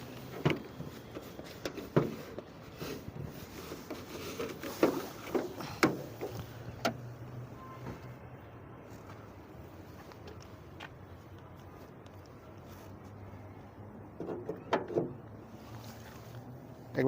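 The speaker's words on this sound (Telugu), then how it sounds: "ఇంజన్ కూడా ఒకసారి స్టార్ట్ చేసి చూసుకుందాం ఎలా ఉందనేది" A 2015 Skoda Rapid diesel engine idles with a low, steady drone, interrupted by scattered clicks and knocks, and a few sharper bursts near the start and end.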